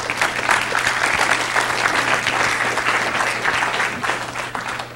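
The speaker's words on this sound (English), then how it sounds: "Please give a big round of applause to our presenter," A large audience gives a presenter a big round of applause at a talk, a sustained wash of many hands clapping, loud and even for the whole stretch with a faint steady hum underneath.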